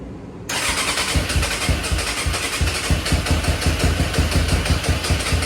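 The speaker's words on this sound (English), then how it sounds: "We're gonna try to start the bike again." A Suzuki Katana 600 motorcycle engine catches after a short quiet start, then settles into a loud, steady, rapidly pulsing idle close by, with no talking.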